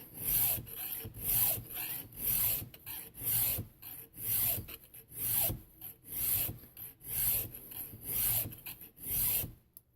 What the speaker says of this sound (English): We're going to go back to filing again.